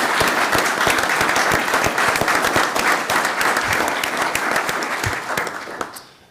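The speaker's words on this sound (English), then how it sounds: "I just want to give them a round of applause for supporting those members of their peers." Sustained applause from an audience at a fire service badge pinning ceremony during a town select board meeting in Plymouth, Massachusetts, honoring firefighters' families; dense, steady clapping fills the room, then tapers off near the end.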